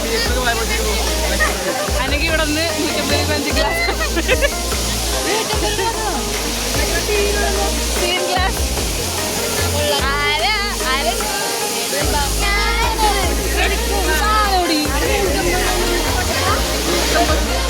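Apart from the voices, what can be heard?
Mangalam waterfall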